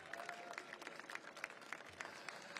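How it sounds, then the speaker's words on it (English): Faint, distant applause from a small outdoor crowd at a flag raising ceremony for Albania with the New York mayor, scattered claps over a quiet background. "Let's give her another round of applause."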